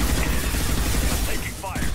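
A Mass Effect 2 combat exchange, rapid gunfire rattling in a dense continuous barrage with low thuds and brief mechanical whines beneath, a voice briefly audible.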